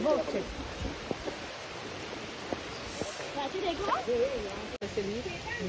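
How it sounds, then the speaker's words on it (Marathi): Heavy monsoon rain pours steadily on a trek in the Sahyadri hills, a dense continuous hiss close by, with voices talking faintly underneath. "पाऊस एवढा जोरात आता आलाय"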